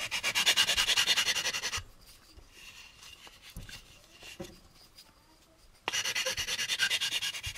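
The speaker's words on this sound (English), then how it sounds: "we also want to cross sand up along the back of the dorsal, or the neck" Fine sandpaper rubbing back and forth on a plastic AMT U.S.S. Enterprise model kit part, close and steady in two bursts at the start and end, with a quieter pause of faint handling sounds between them.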